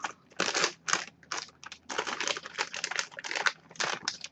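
Plastic protective film peeled off the box of an Omega Ruby Legendary Pokemon Groudon figurine, a close run of crackling, crinkling rips in short bursts with brief pauses, loud and near, with no voices.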